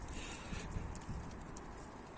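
A pigeon perched on a rooftop chimney gives soft, faint cooing against low outdoor background noise, brief and distant.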